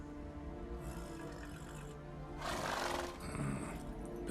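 A horse neighs in The Witcher 3 video game, one loud whinny over a low hum of game ambience and faint mechanical clicks, with no talk.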